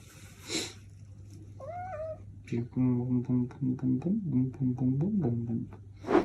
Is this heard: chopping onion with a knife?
no